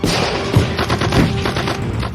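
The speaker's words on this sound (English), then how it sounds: "Suddenly, enemy shooting rang out from the nearby villa." Burst of gunfire from a German soldier shooting out of a villa window during a wartime night raid in Normandy, a rapid fusillade of sharp cracks with a couple of heavier thumps, loud and continuous, no talk.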